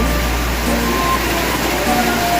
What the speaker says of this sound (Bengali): বাইরেও খুব বৃষ্টি হচ্ছে দেখুন অনেক বৃষ্টি